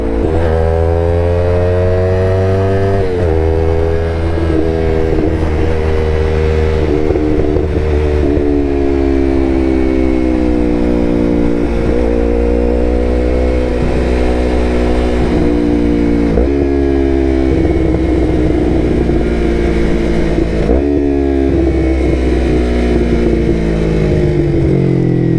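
Yamaha R3 motorcycle fitted with an M4 full exhaust, ridden on the street, loud and close as the engine note drops through repeated downshifts with rising and falling revs and exhaust burble throughout.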